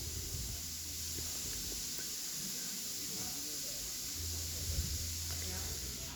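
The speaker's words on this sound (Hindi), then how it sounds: "ये देखिए कितनी अच्छे से इसकी भुनाई हो रही है" Food roasting in a hot pan at home, a continuous hissing sizzle with low rumbling underneath and faint voices in the background.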